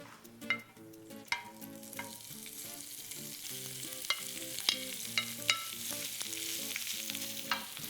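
Chicken warming and frying in olive oil in a pan, with a steady sizzle and clinks and scrapes of stirring against the pan throughout.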